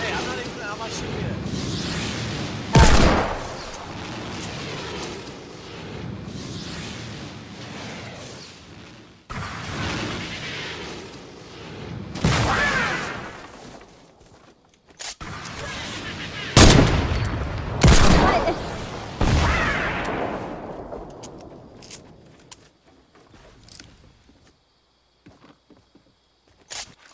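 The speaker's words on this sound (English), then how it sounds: "Launch the cannons! Launch the cannons!" Battleship cannons fire in Fortnite, with several heavy booming blasts in irregular bursts across half a minute, loud and close, mixed with talk and game noise and fading to sparse hits at the end.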